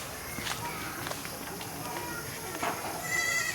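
Goats bleating on a rural village homestead, with livestock shuffling and moving about under steady background noise and some human voices.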